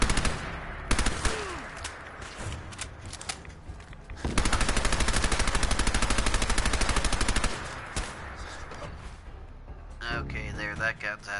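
Gunfire rings out in Fallout 4, with scattered single shots early, then a long rapid automatic burst of several seconds, followed by more sporadic shots and clatter.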